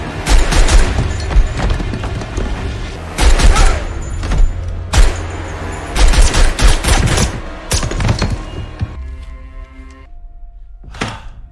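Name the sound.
gunfire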